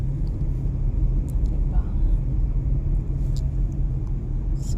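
A car drives along a road with no traffic on the way to work, heard from inside as a steady low engine and road rumble that stays loud and even throughout, with faint background sounds.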